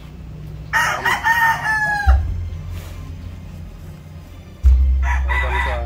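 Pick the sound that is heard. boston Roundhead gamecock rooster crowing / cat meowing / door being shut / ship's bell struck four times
boston Roundhead gamecock rooster crowing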